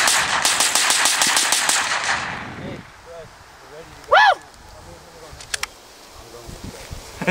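A GSG 5 rifle fires a rapid burst of repeated shots. The shots come close and loud at first, then give way to quieter scattered sounds.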